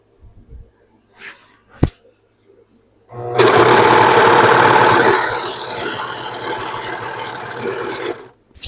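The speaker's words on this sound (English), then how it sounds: "we're going to take the serger, and we're just going to serge these 4 seams right here real quick" A serger overlocks the seams of a dress lining, running in one steady loud whirring stretch of about five seconds after a few soft handling clicks, with faint fabric rustle at the end.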